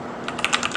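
Quick burst of typing on a computer keyboard at a Linux terminal, several crisp close key clicks in an irregular rhythm over less than a second, with no voices.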